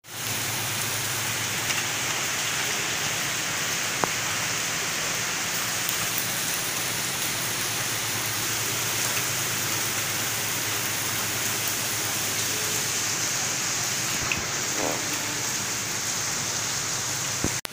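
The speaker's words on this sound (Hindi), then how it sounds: "बारिश इतनी हो रही है।" Heavy rain pours down outside, a dense, unbroken hiss of falling water on surfaces that stays loud and even throughout, with a faint low hum underneath and no voices.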